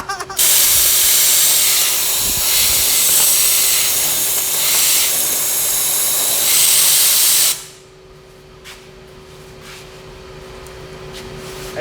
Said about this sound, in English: It must be sandblasted.